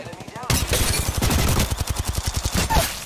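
Rapid bursts of gunfire in a battle royale video game, sharp repeated shots in a fast rhythm after a brief quieter start, loud and close.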